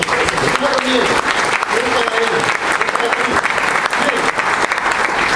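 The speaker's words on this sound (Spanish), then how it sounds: "Den un aplauso fuerte al Señor." A church congregation applauds loudly and steadily throughout, dense clapping filling the space, with faint voices beneath it.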